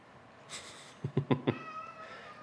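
A cat gives a short series of four quick, close meows over faint background noise, after a brief rustle.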